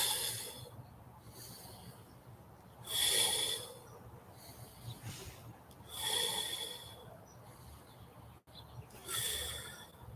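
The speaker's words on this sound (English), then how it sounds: "Inhale through your nose and exhale through your mouth." Three slow breath cycles spaced a few seconds apart during a yoga breathing exercise, each a soft airy rush drawn in through the nose and let out through the mouth, close and quiet against a low hum.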